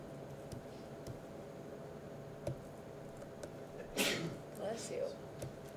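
A single brief sneeze from a person during a calculus tutoring session, a short burst standing out over a quiet room with low background hum and faint talk nearby.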